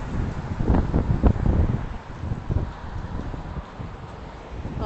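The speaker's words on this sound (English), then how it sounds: "Ooh, it's windy." Wind blows across an outdoor spot in Mississauga at sunset, a moderate steady rush with a few stronger gusts near the microphone early on, then settling to a softer continuous hiss.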